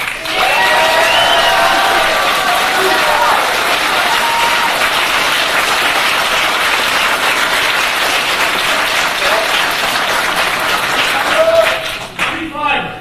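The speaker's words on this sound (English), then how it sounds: "let's give Mark that applause again so he can hear it" A large audience at a boxing-themed gathering applauds loudly and continuously, with cheering mixed into the sustained clapping and voices rising over it near the end.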